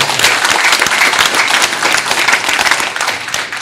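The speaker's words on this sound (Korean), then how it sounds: "박수 부탁드리겠습니다." Dense, loud applause from an audience at a book launch celebration, a steady wash of many hands clapping for the whole stretch with no voices over it.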